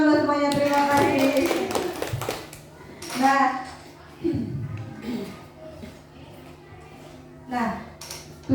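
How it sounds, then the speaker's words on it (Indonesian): Children clap together in an elementary school classroom in a short, dense burst near the start, followed by scattered taps. Children's voices and an adult's speech come through around it. "tepuk tangan buat semuanya"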